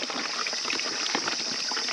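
Water gushes steadily into a gallon jug being filled outdoors at a mountain campsite near Almora, Uttarakhand, making a dense, even rushing splash close up.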